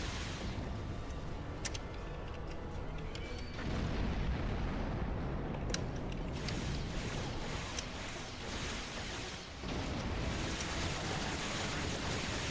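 Explosions in the space combat of Star Trek Online come as a dense, continuous roar of blasts and rumbling booms, loud throughout with sudden surges.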